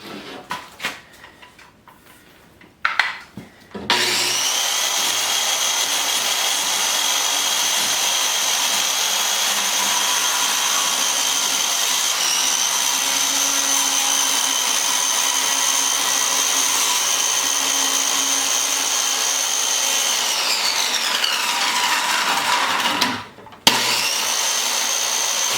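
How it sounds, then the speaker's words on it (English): A power saw blade cutting material for a mini barndominium shower build, a loud, steady whine held for about twenty seconds after a brief start-up, cutting off near the end and then resuming. "So we're going to go ahead and see how this blade cuts."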